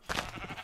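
A single Minecraft sheep bleats once, a short, close, clear call on its own.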